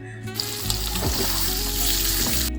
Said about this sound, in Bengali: তারপর কড়াইতে পরিমাণ মতন সাদা তেল দিয়ে একে একে আলু তাতে দিয়ে ভালো করে ভেজে দিলাম।